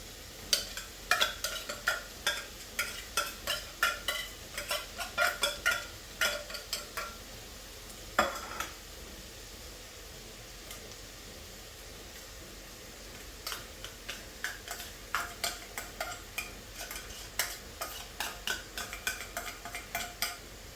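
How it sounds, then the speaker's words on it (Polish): Clinking and scraping of a utensil stirring tuna and zucchini in a pan, with a faint sizzle underneath; the stirring comes in bursts with a quieter stretch midway. "Następnie smażymy jeszcze około 2 minut."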